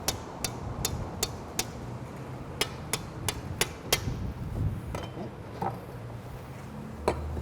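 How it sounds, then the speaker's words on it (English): A knife minces capers and lemon zest on a cutting board, sounding as crisp, sharp taps in a quick steady rhythm that slows and spaces out toward the end, close by and alone. "We'll just mince this down a little bit more fine."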